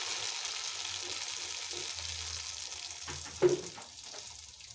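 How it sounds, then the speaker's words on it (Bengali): Semolina and flour pitha batter goes into hot white oil in a kadai and fries with a soft, continuous hiss, close by but faint, with a small clatter near the end. "এরপর গরম তেলের মধ্যে ব্যাটারটা দিয়ে দেব।"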